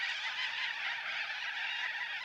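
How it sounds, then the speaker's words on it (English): Cockatoos screech loudly in the morning, a harsh, continuous raucous chorus that stays strong and steady throughout with no pauses, and no voices. "I've got some very loud cockatoos. They can be very loud in the morning."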